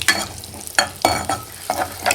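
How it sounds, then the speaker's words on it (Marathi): Curry leaves and garlic frying in a pan for a Marathi tomato saar, with bursts of spatula stirring and scraping over a crackling sizzle, close and fairly loud. "कढीपत्ता, लसूण मिक्स करून घ्यायचं छान."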